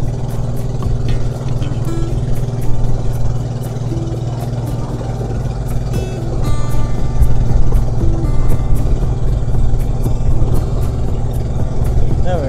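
A boat motor drones loudly and steadily on a trip in Pangasinan, its low roar filling the whole stretch with little variation.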